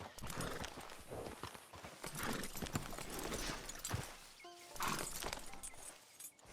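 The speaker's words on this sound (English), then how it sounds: "Get on the horse when you're ready." Horse hooves clip-clop in Red Dead Online at a steady trotting rhythm, fairly close, with a brief clinking accent midway and a short pause before the hoofbeats pick up again.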